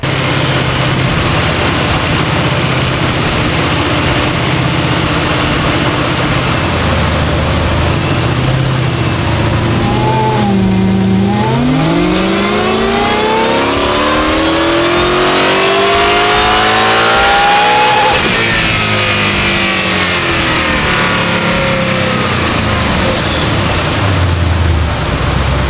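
Ford Mustang with an E85 tune and upgraded fuel system making about 790 rwhp revs hard on a chassis dyno, engine note sweeping up loud and continuous through the run and falling back at the end, with no talk.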